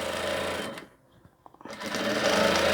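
Sewing machine stitching around the edge of a double-sided coat, seam matched to seam, a steady close whir that pauses briefly to a few faint clicks and thuds before running again.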